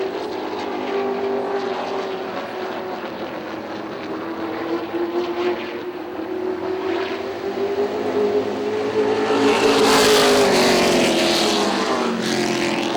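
Race trucks roar around the Motordrome Speedway oval in a steady loud engine drone, the pitch slowly rising as the pack closes in and swells louder near the end.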